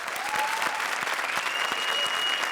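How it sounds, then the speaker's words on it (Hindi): A studio audience on a comedy show claps in sustained, dense applause that continues at an even level from start to finish. "जोरदार तालियां आफ्ताब और आमना के लिए"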